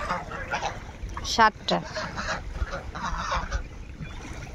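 Chinese geese on a small poultry farm honk loudly and close by, with a sharp burst of calls in the middle and a person talking throughout.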